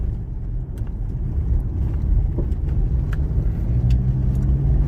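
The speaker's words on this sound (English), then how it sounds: "here comes a motorhome creating a bit of dust." A motorhome drives past on a dusty outback road in the Flinders area, a steady mid-to-low engine and tyre rumble holding loud and close throughout with no talk.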